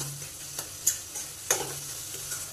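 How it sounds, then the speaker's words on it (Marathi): Onion and tomato masala stirred in a pan: a faint low sizzle punctuated by a few distinct scrapes and taps of the spoon, quiet and close, without talk. "तेल सुटेपर्यंत हलवून घ्यायचं। कांदा टोमॅटो बघा चांगला शिजलेला आहे।"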